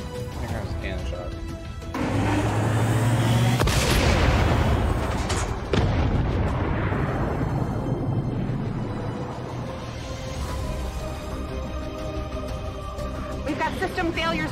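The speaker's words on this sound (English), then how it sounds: "Here comes a cannon shot." In XCOM 2, a commander mech's cannon fires a heavy booming shot amid crashing impacts and rumbling game effects, with loud sustained noise and talking over it.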